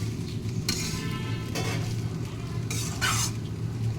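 Mixed vegetables fry in a pan for biryani with a constant sizzle, broken by several loud bursts of scraping and stirring as a utensil works the pan.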